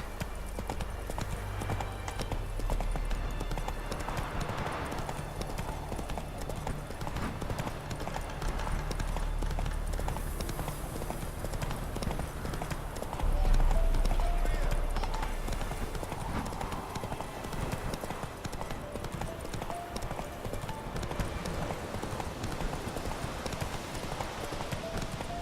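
Horse hooves gallop steadily in The Witcher 3, a continuous rhythmic clip-clop running throughout over an ambient game soundscape, with a faint voice briefly heard.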